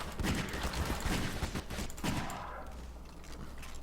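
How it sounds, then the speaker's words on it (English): Rapid bursts of gunfire in the video game Garry's Mod, a dense volley of overlapping shots in the first two seconds that then thins to scattered, more distant reports. "There's more gunfire."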